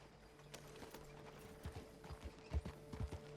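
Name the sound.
horse hooves clip-clopping in Red Dead Redemption Online video game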